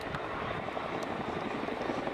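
A steady, loud helicopter rotor drone with engine roar, constant and close throughout, at the Dunsfold Wings & Wheels airshow in 2014.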